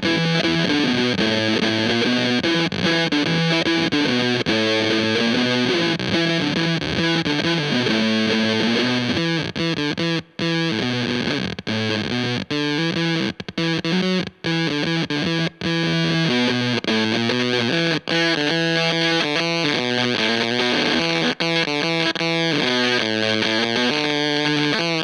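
Heavily distorted electric guitar through a ZVEX Fuzz Factory pedal playing a steady riff, tightly compressed with a clipped, fuzzy tone and short gated note endings, loud and continuous throughout.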